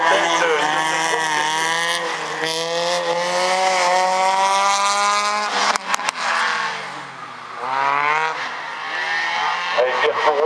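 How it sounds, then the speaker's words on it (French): A Lotus Exige race car launches on a slalom hill course, its engine revving hard through rising gear pulls, loud and near, with a brief break and crackle before climbing again. "les Julien Schetter qui s'élance au volant de la Lotus Exige."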